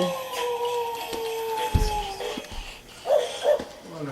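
A toy-like dog sound gives a drawn-out whining howl, then a couple of short yips. Faint background noise continues and there are a few soft thumps.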